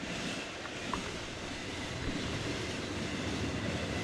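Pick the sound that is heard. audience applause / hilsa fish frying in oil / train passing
train passing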